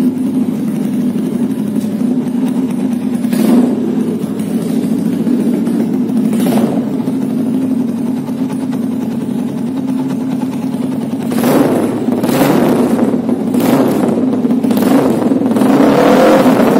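A 2005 Yamaha Scorpio motorcycle engine idles close by at a steady putter, broken by several sharp throttle revs, two spaced apart early on and a quicker cluster later. There is no talking.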